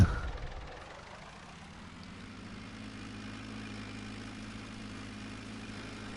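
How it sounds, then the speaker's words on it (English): Tractor engine in Farming Simulator 19, a low, steady droning rumble that settles into an even idle-like hum after a brief louder start, with no voices. "Tractor on the run."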